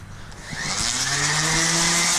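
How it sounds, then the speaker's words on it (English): An orbital sander fitted with an 80 grit sandpaper pad starts up and spins to a steady, loud whine with a rising hum, running close by without talk. "It's an orbital sander, and it has an 80 grit sandpaper pad on it."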